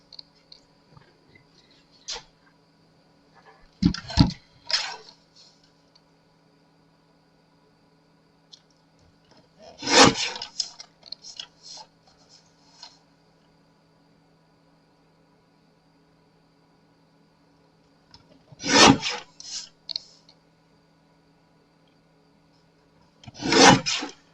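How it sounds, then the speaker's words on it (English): A card panel for a handmade card is trimmed in a few short, sharp bursts, spread out with long quiet gaps between them. Each burst is crisp and close, and no one speaks. "I've got to trim the panel down some"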